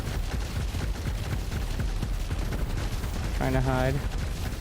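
Turrets in the real-time strategy game Rogue Command fire dense, rapid crackling bursts throughout, loud and continuous, with a brief voice speaking near the end.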